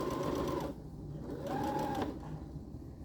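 A sewing machine stitches fabric in two close, even bursts of rapid mechanical whirring, separated by a short pause and followed by a quieter stretch.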